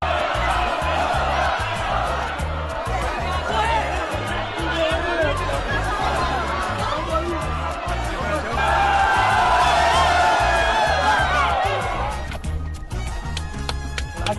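Colorado supporters of Internacional crowd together around forward Rafael Santos Borré, a loud, continuous swell of chatter, laughter and shouting close by, rising to a peak near the end before easing.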